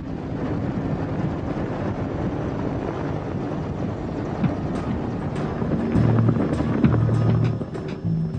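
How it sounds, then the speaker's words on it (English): A Soviet-built Mi-24 Hind assault helicopter, a captured Iraqi gunship from the Gulf War, gives off a steady, loud rotor and engine roar mixed with wind buffeting, with no talk. "An Mi-24 assault helicopter captured from Iraqi troops in the Gulf War."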